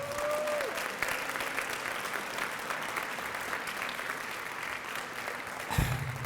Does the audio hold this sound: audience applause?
yes